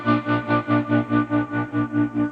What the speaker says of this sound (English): Let's go with a trem. I'm going to turn this into a 16th note because I like fast trems.